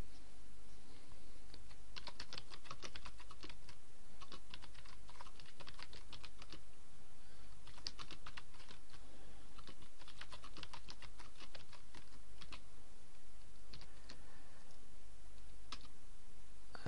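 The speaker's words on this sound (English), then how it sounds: "we can enter a bit of text" Someone types on a computer keyboard while adding text to a WordPress blog post, with quick bursts of close, soft key clicks separated by short pauses and no voices.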